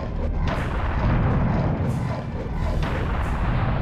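Heavy booming cannon fire in the video game Serious Sam: The Second Encounter rumbles continuously, a dense low roar with repeated thuds, loud and close, with no voices.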